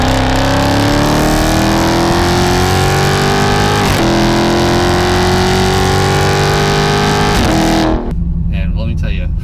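Loud 2017 Dodge Charger Scat Pack with a 6.4L Hemi 392 and mid muffler delete, its active exhaust revving and droning up through steady acceleration, then cutting off abruptly near the end.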